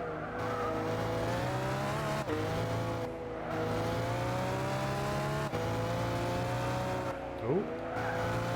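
A car in Gran Turismo 6 drives along with a steady engine drone, shifting pitch through gear changes and revs, and one short tire squeal near the end.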